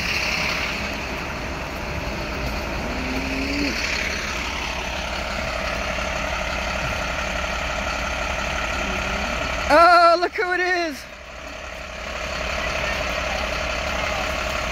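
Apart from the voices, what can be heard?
school bus engine idling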